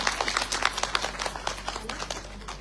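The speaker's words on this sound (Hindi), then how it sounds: "तो अपने लिए जोरदार ताली बजाइए" Audience applause at an International Women's Day speech event, a steady crackle of many hands clapping together for a few seconds, moderately loud with no voice over it.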